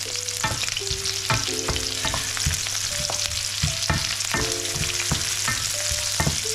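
Food with onions is stirred and fried in a pan, a steady close sizzle broken by repeated scraping and clinking strokes of the utensil against the pan, with no talking.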